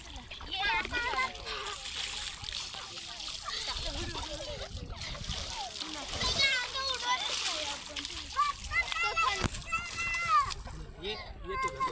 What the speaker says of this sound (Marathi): लवकर नाही तर पाणी उडेल तुला